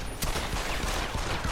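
Video-game gunfire from Deus Ex: Human Revolution: a rapid burst of shots, loud and close, cracking in quick succession over a short firefight.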